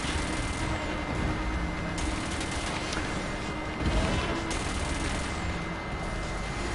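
Cannon weapon firing in the futuristic racing game Wipeout: a steady, loud stream of rapid mechanical shots over racing noise, continuing for several seconds with a brief stronger burst near the middle.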